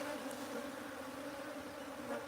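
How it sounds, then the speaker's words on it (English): A clump of bees gathers at a bee box, filling the air with a steady, even buzzing drone that holds at constant moderate loudness throughout, with no voices. "You can see how small the clump of bees has got now."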